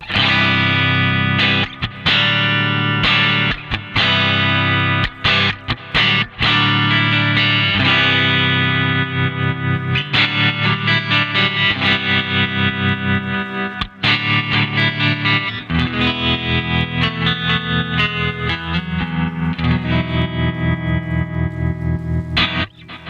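An electric guitar runs through a Helix '68 Twin Reverb preset with a Timmy overdrive, loud and driven, with strummed chords and choppy stops giving way to a pulsing tremolo-like rhythm under a wash of reverb.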